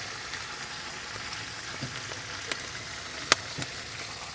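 Food sautéing in a pan in a rural home kitchen, a soft steady sizzle with a few small pops and crackles, close and unbroken with no talking.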